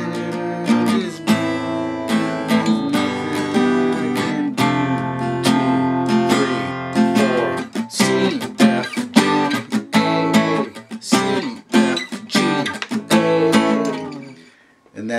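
Acoustic guitar strums the chords of a song coming out of the chorus, full rhythmic strumming with ringing chords up close, fading at the end.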